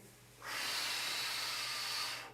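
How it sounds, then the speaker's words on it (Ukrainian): A single long, close exhale of breath through the mouth during a posture exercise, a steady airy hiss lasting about two seconds. "Вдих через ніс і видих через рот"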